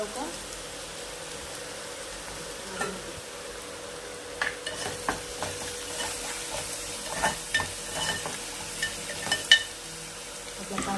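Onions frying in oil with ginger-garlic paste for a Khandeshi-style cluster bean dish, a steady low sizzle broken by scattered sharp stirring clicks and scrapes, moderately close.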